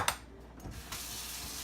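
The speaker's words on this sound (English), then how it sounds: "run it under hot water" Hot water runs from a tap over a cake-icing spatula being rinsed, a steady close hiss and splash after a few quick clinks at the start.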